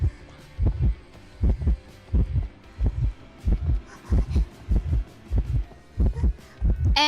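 Heavy, pulsing heartbeat warning from the Identity V video game, with a steady double-thump pattern repeating about every half second, loud and alone throughout.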